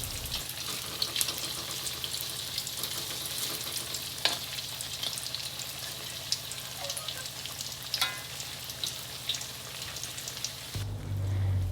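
Tofu fries in hot oil with a steady, dense sizzle and crackle, close and continuous, with occasional stirring clinks before it cuts off near the end.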